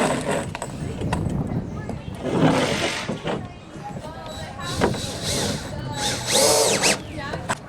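Power drill driving screws into 2x4-supported raft decking, several short whirring bursts with clattering handling noises between them, fairly close.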